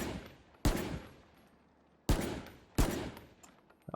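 Three sharp rifle bursts from the Bulldog in the shooter game Valorant, each a loud crack with a decaying tail, separated by quiet gaps, with no voices.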